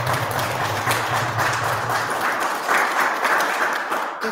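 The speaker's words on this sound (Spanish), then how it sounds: "Pues un aplauso." Applause from the audience at a women's and gender history seminar, a dense, even patter of many hands that holds steady for about four seconds before easing off.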